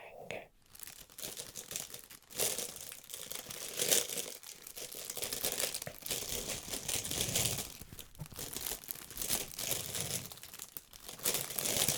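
Continuous crinkling and crumpling of a plastic bag, close and fairly loud, with rustling bursts and brief tearing-like crackles throughout.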